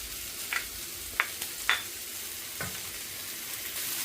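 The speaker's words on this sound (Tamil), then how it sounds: "கரட்டையும் போட்டு இதோட சேர்த்து நல்லா ஒரு 5 நிமிஷம் இந்த கரட்டை நல்லா வதங்கட்டுக்கும்" Carrots and onions stir-frying in a pan for Sri Lankan-style egg noodles: a steady soft sizzle broken by several sharp scrapes of a spatula stirring the vegetables, with no talking.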